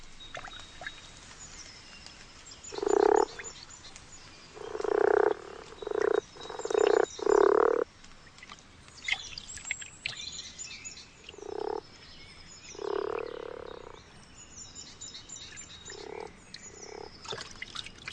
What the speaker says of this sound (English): The males are the first to arrive and croak to attract the females.